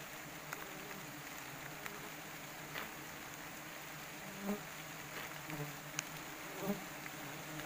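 Wild forest honeybees buzz in a steady, quiet drone with no talk, a few closer bees passing by now and then.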